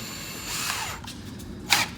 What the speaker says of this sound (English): So I'm going to use my Ryobi drill here